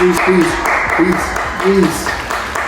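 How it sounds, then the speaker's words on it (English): A class applauds a professor at a final reflection session, steady crowd clapping running under voices that rise over it throughout. "Please, a round of applause for him"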